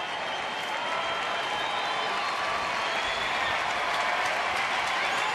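Crowd at a Red Sox versus Rangers baseball game in Texas, clapping and cheering in a steady, dense, loud wash of applause throughout, with faint voices mixed in.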